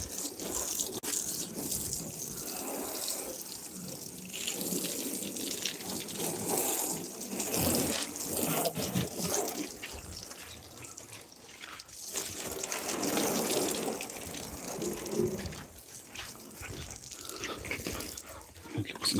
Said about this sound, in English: So now I'm just gonna rinse the soap out